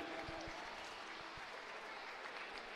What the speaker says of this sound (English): please make a nice warm round of applause for your top 10 boys, 10 and under 200 IM